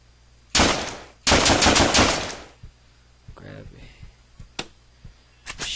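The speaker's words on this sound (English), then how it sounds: "shotgun." Shotgun fire in the video game Deadbolt: two loud, dense blasts of gunfire in close succession, followed by quieter scattered clicks and small thumps.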